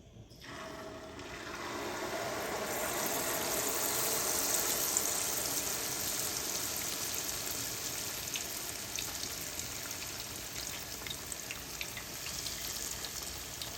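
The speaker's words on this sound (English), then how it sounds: "Just let it fry in there for a couple of minutes" Cornstarch frying in cooking oil, a steady bright sizzle with fine crackling bubbles that swells after the first couple of seconds and then holds evenly, moderately quiet, no voices.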